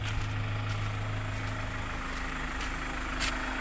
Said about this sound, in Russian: Вот так вот мягенько работает машинка.